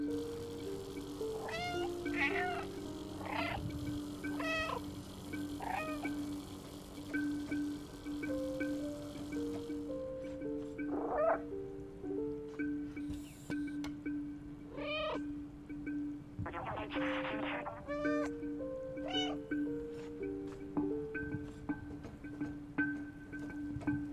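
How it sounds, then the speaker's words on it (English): Repeated cat meows from the playable cat in the video game Stray, a run of short mewing calls spaced irregularly over a steady low hum, with a brief busier cluster near the end. "It's cool that I can make the cat make noises and cutscenes."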